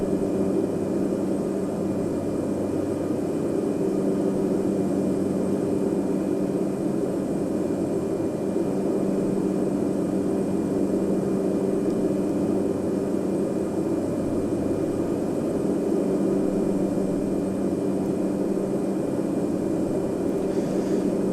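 Aircraft engine in a flight simulator, climbing out after takeoff over a valley, a constant droning hum with steady tonal bands, unbroken and moderately loud, with no talk.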